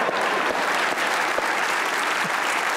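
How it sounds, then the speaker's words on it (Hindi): A studio audience at a Pakistani comedy talk show bursts into steady applause, a thick continuous patter of many hands at even volume for a few seconds with no talking. "इनके लिए एक बार तालियां हो जाए"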